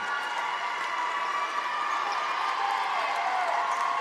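A big, steady crowd of fans murmurs and chatters in a gym before a seventh-grade volleyball state semifinal between Morton and Hickory Creek, forming a constant, moderately distant din with no distinct claps or shouts.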